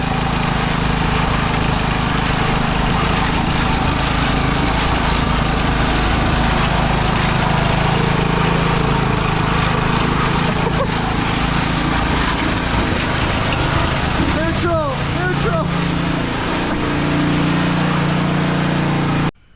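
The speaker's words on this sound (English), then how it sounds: "Try to drive it back into the garage." A small steam roller found in a barn drives along, its engine chugging steadily and loudly nearby for the whole stretch, with a few brief squeaks and knocks partway through.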